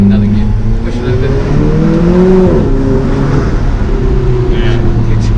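An Alfa Romeo 4C Spider engine pulls hard under acceleration on a scenic road, a loud, rising drone heard from inside the car with a brief shift dip midway before climbing again, and people talking over it.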